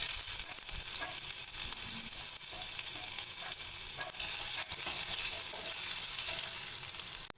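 Chopped ginger fries in hot oil with nigella seeds and green chillies, a steady close crackling sizzle with light stirring scrapes throughout and no voices.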